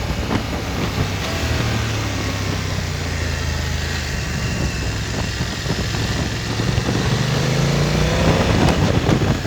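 A BMW F 900 XR motorcycle engine pulls under acceleration, a buzzing drone climbing smoothly in pitch over constant wind roar, heard close from the rider's position with no talking.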